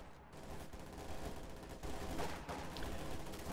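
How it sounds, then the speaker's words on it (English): Stuka dive bombers unleash a barrage in the WWII strategy game Company of Heroes 2, with rapid, faint, distant bursts of gunfire and explosions crackling over a busy battlefield mix. "Another Stuka barrage going in"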